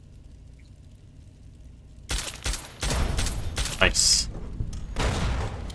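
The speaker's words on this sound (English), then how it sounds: "Explosions going off over here." Explosions and gunfire in the Fallout video game burst in after two seconds of near quiet, a run of heavy thuds and cracks with one sharp high crack near the end, all under a man's occasional speech.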